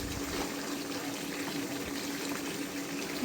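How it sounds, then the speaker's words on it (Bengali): Rice boils in a pot with a steady, close bubbling and rushing hiss that carries on evenly throughout. "এখানে একটু ভাত রান্না করছি।"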